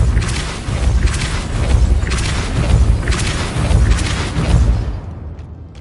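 Repeated booming blasts of the Depulso spell in Hogwarts Legacy, about five loud, rumbling bursts at roughly one-second intervals, fading out at the end.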